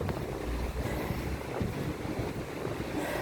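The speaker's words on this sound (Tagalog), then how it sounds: "Lumakas yung hangin." A steady roar of strong wind buffets the microphone, with gusty rumbling low noise and no voices.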